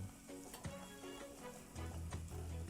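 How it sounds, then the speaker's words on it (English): Fresh tomatoes stirred in a hot pan with vegetables for rice and beans, a steady quiet sizzle with soft scraping and a few light clinks of the utensil. "I'm gonna add my fresh tomatoes. Stir that around in there."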